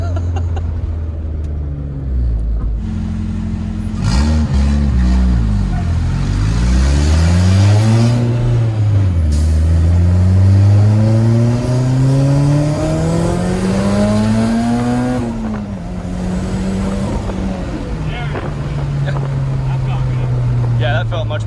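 A Honda K-series engine swapped into a Porsche 911 revs hard on a dyno, loud and close, its pitch climbing, dropping and climbing again through repeated pulls.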